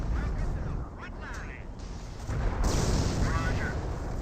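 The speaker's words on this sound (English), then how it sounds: "We got another M2 barrage this time," M2 mortar barrage in a Company of Heroes World War II strategy battle: deep rumbling booms and continuous explosive battlefield noise, with a voice commentating over it.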